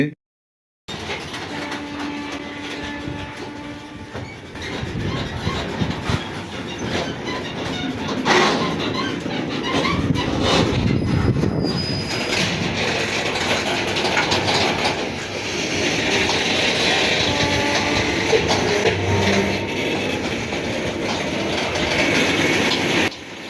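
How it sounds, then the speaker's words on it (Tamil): A train at Karaikal railway station rumbles and clatters along the tracks, building from stillness into steady rolling noise with metallic squeals and clicks, loud and close. "ட்ரெயின் மூவ் ஆக ஆரம்பிச்சிடுச்சு"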